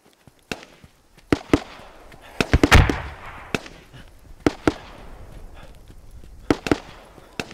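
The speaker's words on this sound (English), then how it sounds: "Watch out, grenades." Grenade explosions and gunfire from the military shooter game Squad: sharp, loud cracks and bangs spaced irregularly, with one heavier clustered burst near the middle, nearby and dominating the mix.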